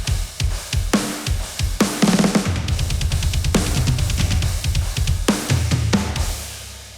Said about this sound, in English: And all of the drums mixed together sound like this.